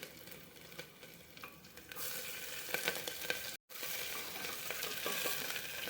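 Ginger, garlic and green chili sauté in a pan with steady sizzling and stirring, becoming louder and fuller partway through after a brief silent gap, close and without talk.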